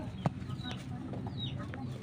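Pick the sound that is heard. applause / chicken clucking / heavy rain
chicken clucking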